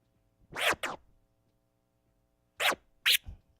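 Turntable scratch of a two-click open delayed flare: two bursts of swishing record scratches, each a quick pair of strokes, separated by a short pause, close and alone.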